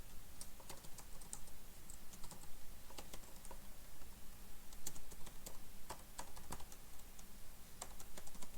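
Steady, fast typing on a computer keyboard, a dense patter of close key clicks with occasional sharper taps running throughout over faint room hiss, with no one talking.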